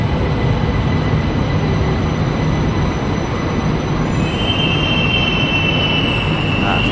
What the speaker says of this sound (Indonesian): bakal segera datang LRT tujuan Jatimulya tuh